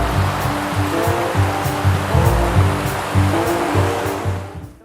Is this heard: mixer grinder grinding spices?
no